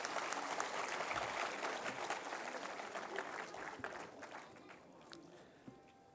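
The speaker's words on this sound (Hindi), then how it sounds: "एक बार सब लोग ताली बजा दीजिए बहन के लिए।" An audience at a Hindi public talk gives a dense, steady burst of applause that starts loud and slowly thins to scattered claps by the end.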